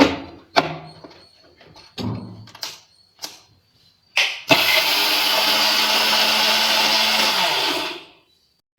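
A kitchen mixer grinder pulverising ingredients into powder: a few knocks and clatters of the jar being set up, then the motor roars loudly and steadily for about three seconds before cutting off.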